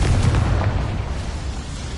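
Confringo fire spell exploding in the video game Hogwarts Legacy, a loud, dense blast that fills the moment and slowly rumbles away over two seconds.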